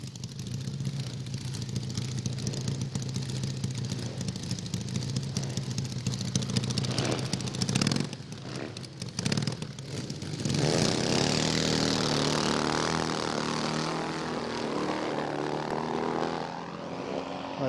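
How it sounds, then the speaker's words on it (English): A double-engine Norton drag racing motorcycle at Santa Pod Raceway gives a loud, sustained, droning engine roar that swells and shifts in pitch partway through its run. "They just have their own particular sound, these double-engine bikes."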